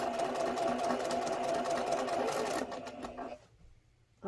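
A sewing machine quilting a tulip-pattern quilt runs in a steady, close hum of rapid stitching for several seconds, then slows and falls quiet.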